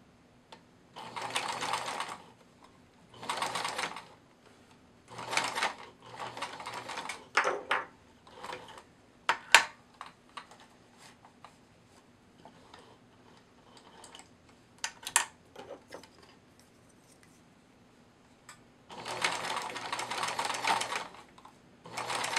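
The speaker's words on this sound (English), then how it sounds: "I'm going to switch over to my stretch stitch function, and I'm just going to base these in place" A sewing machine on stretch stitch bastes plush otter pieces in place, running in several short bursts of rapid stitching separated by pauses filled with small clicks and handling noises.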